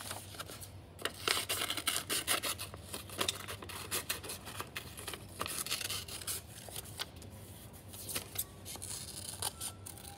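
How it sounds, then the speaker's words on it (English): Scissors snip out paper penguin eyes for a collage, giving a run of close, crisp cuts and scraping rustles of paper at an irregular pace throughout, with no talking. "We'll cut these out."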